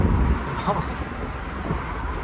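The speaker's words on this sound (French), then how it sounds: "Le vent c'est stylé." Wind rushes past an open Renault Megane 2 convertible in motion, a loud, continuous roaring buffet of air close to the microphone, with a voice briefly heard.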